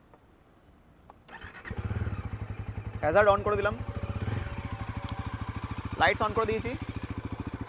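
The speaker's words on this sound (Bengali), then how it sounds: "এবার চলুন এই বাইকটা এক্সস্টের সাউন্ডটা আমি আপনাদেরকে শুনিয়ে দিচ্ছি" A 2026 Bajaj Pulsar NS400Z motorcycle starts up and settles into a steady, close, throbbing idle. Two short throttle blips rise over it, and someone talks briefly at the start.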